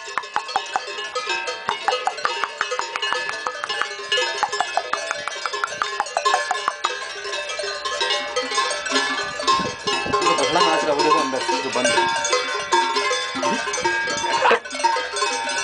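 Several Swiss cowbells clang together in a busy, uneven jangle, starting as sharp separate strikes and building into a dense, continuous ringing close by.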